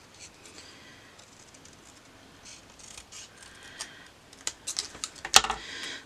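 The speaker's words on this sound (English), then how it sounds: "So I'm just going to cut a couple of millimetres bigger than my drawn line." Scissors snipping through the paper backing of a cut file, a run of small crisp cuts and rustles that grows louder toward the end with one sharp snap.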